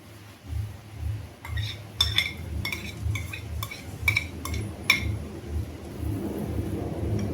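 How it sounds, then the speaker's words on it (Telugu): Fried mushrooms tip into a pan of cooked masala and get stirred, a spoon clinking and scraping against the metal pan in a run of bright taps over a low, rumbling background. "ఇంతక ఫ్రై చేసి పెట్టుకున్న మష్రూము యాడ్ చేసుకుందాము"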